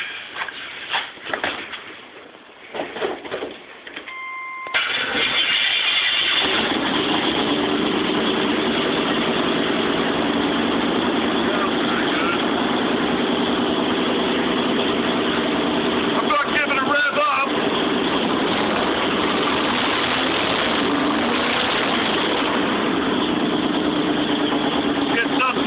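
A 1984 Chevrolet Monte Carlo SS engine cranks briefly and fires up, then settles into a steady, loud, rumbling idle that runs on without a break.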